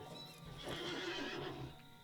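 A horse whinnies in a Lord of the Rings video game, a single drawn-out neigh rising and falling over a steady background of game ambience and music, with no talking.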